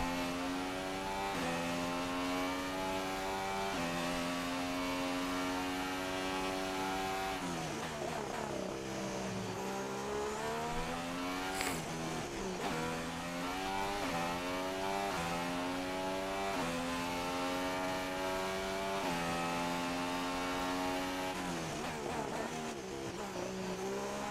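F1 race cars lap the track in the F1 Racing 2016 video game, with high engine whines rising and falling through gear changes and a dip while braking. The sound is continuous and fairly quiet, with occasional voice chatter underneath.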